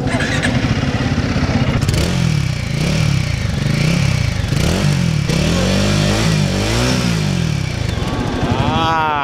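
A Royal Enfield Guerrilla 450 motorcycle engine revs up and down in repeated loud, close throttle blips over a steady idle, climbing to a higher rising rev near the end.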